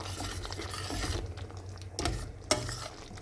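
Baby corn masala with crushed kasuri methi being stirred in a pan, soft scraping and gentle sizzling throughout, quiet and close, with a brief sharp clink of a utensil against the pan.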